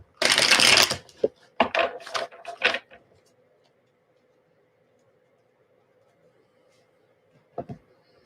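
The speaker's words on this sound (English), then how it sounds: "One more shuffle of these ones, then I'll shuffle the energy ones," A deck of energy cards is shuffled close by in quick riffling bursts, followed by a long quiet pause and one final brief card rustle.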